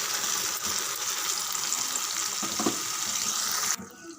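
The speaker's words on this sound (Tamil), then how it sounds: "நல்லா பொரிய ஆரம்பிச்சிருக்கு" Spices for a tomato pickle, asafoetida among them, sizzle and crackle in hot oil as a steady, close, bright hiss with small pops. The sound cuts off sharply near the end.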